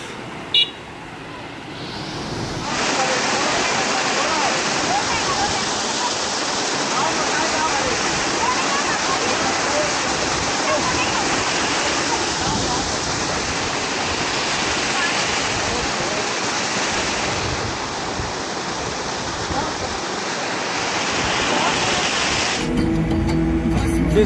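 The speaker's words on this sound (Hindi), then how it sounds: "क्या सुंदर वाटरफॉल है भाई।" A roaring waterfall in Ladakh, a loud, steady broadband rush of falling water that holds constant for most of the clip, with faint traffic noise at the start and end.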